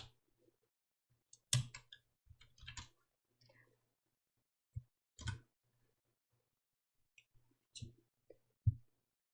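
Key presses on a computer keyboard, the Windows logo key and the Esc key, heard as sparse, separate clicks and taps with pauses between them, fairly close and alone without talk.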